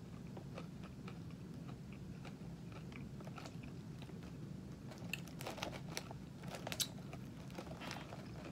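Crunching 2 Gringo's Chupacabra tortilla chips, salty and seasoned with garlic and onion, in a steady run of close, crisp bites and chewing, getting louder and sharper toward the end, with no talking.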